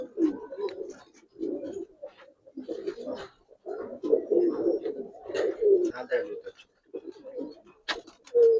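Giribaz pigeons coo repeatedly in soft, throaty rolls, close by and fairly continuous, with a few higher chirps mixed in.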